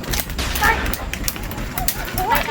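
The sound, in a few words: gunfire in a video game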